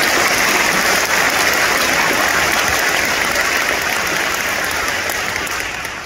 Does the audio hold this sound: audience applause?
yes